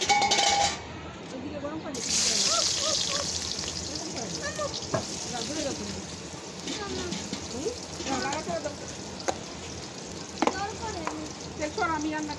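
Onions fry in a hot pan with a steady sizzle and crackle at home as beef is cooked for lunch. Voices talk over the sound throughout.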